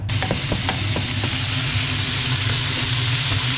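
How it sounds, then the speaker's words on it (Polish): Chicken pieces fry in a pan with a steady, close sizzle and hiss, broken by a few light scrapes and taps as the meat is stirred. "i smażymy na nim kurczaka"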